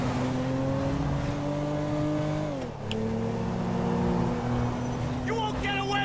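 A car races at top speed in Grand Theft Auto 5, its engine holding a steady high whine that dips briefly as it shifts, then climbs again. A voice talks over it near the end.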